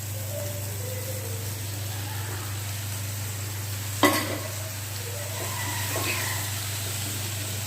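Soybeans and potatoes dropped into spices with a splash of water for a soya curry, giving a steady close sizzle with a sharp crackling burst midway, over a constant low hum and no talk.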